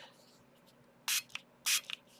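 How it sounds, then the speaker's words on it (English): A spray bottle mists onto Brusho watercolor paint in two short, sharp hissing bursts, each followed by a brief faint tail, close by in an otherwise quiet room. "let's spray it"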